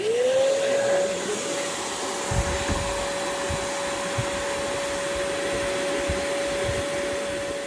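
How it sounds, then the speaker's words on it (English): A vacuum cleaner whines steadily at close range while cleaning a car's interior, its motor tone constant, with occasional low thumps and rustles as it works. "We'll let the vacuum do the work."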